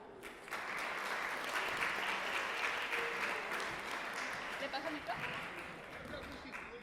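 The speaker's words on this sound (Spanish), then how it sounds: "Por favor, brindémosle un caluroso aplauso." An audience at a wine industry lecture gives warm applause to the incoming speaker, sustained crowd clapping that swells and gradually tapers off.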